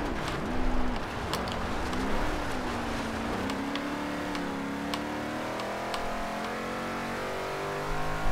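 A 2005 Ford GT in the racing game Forza Horizon 2, its engine note climbing and shifting through gears in a sustained, fairly loud whine, with brief sharp clicks and tyre noise scattered across the run.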